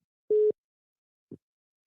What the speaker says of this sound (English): Michael from Minnesota hung the phone up